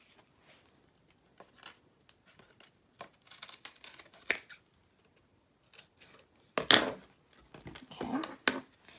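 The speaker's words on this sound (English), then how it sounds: "Just take a scissor, trim it." Scissors snip and trim material while a glass palette is being made, a run of short close cuts and rustles that grows louder and denser toward the end, with no talk.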